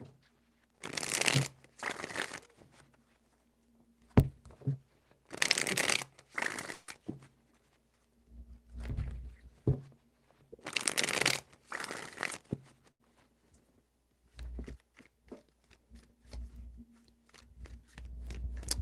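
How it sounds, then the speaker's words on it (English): Tarot cards shuffled in several brisk bursts, crisp riffling sounds separated by quiet pauses, close and fairly loud. "Five shuffles."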